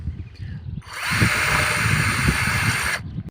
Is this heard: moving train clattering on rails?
no